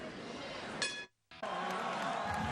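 Crowd murmur at a Wednesday Night Fights boxing card in the Bell Auditorium, Augusta, Georgia, a steady indoor din with a brief sharp clink and a short near-silent gap partway through.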